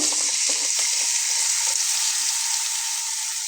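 Chopped onions frying in a hot pan for a Bengali fish curry, a steady close broadband sizzle that holds evenly for several seconds with faint stirring clicks early on and no voices.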